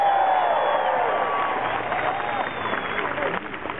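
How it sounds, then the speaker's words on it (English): An audience at a Los Angeles City Hall tribute to actor Adam West applauds a police chief, a sustained wash of clapping with voices mixed in. "Let's give Chief Beck a round of applause."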